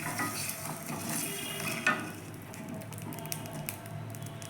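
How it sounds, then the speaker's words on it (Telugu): Fenugreek and mustard seeds roasting in a pan for mango pickle, with a steady close sizzle and crackle, faint pops and a brief clink of a utensil near the middle, no talk. "మెంతులు, ఆవాలు చిట్టపడలాడేటట్టు వేయించుకోవాలి."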